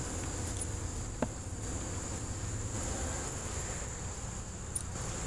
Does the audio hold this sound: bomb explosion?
no